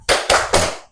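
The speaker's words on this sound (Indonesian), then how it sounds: "mari kita melakukan ice breaking tepuk rimba" A class clapping in unison for the tepuk rimba ice breaker, three loud, evenly spaced group claps in quick succession in a classroom.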